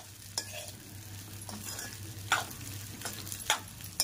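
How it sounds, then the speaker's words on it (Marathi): Sabudana khichdi is stirred in a pan as it cooks, a soft continuous sizzle broken by several scraping spoon strokes and light clinks against the pan, close and fairly quiet. "आणि ह्यालाही मिक्स करून आपण 5 मिनिटं शिजवणार आहोत"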